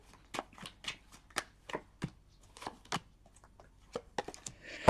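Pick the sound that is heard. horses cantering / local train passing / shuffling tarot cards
shuffling tarot cards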